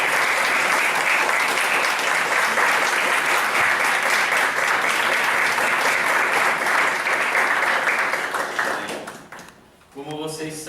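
A church congregation at a special Bible school service applauds loudly and steadily for about nine seconds, then the clapping fades and a voice starts talking.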